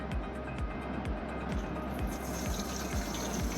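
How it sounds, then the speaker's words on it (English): Water flowing into the housing of a 7-stage reverse osmosis filter under a kitchen sink, a soft, continuous rush with a faint regular pulsing, heard close and fairly quiet. "we got this water running into here. It's going to fill up first"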